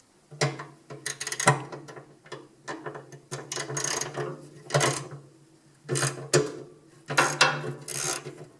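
A socket wrench works a nut loose on a Pit Boss pellet grill while a temperature probe sensor is being replaced, giving close, dry ratcheting clicks in several short bursts separated by brief pauses.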